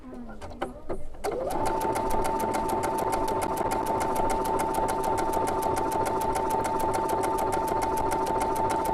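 A sewing machine runs a steady, continuous stitching rhythm through fabric while blind hem, overcast and sideways stitches are sewn, close and loud after a few brief starts and stops at the beginning.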